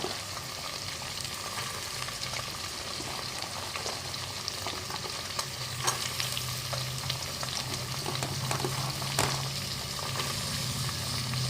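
Carrots, beans, cabbage and peas fry in a pan for vegetable bath, giving a continuous, even hissing sizzle with occasional soft stirring scrapes, close and moderately loud.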